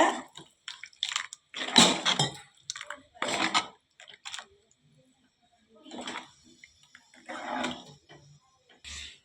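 Water poured into a pot while cooking Tamil-style egg curry, coming as intermittent splashy bursts with quiet gaps, close and moderately loud.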